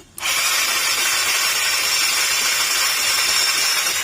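Yamaha Mio Sporty scooter engine cranking without starting, a loud steady whirring roar held for about four seconds, close by and with no talk over it.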